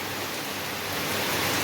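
Steady rain falls around a house during the rainy season, a dense, even hiss of drops that fills the space loudly and continuously, growing slightly heavier toward the end, with no voices.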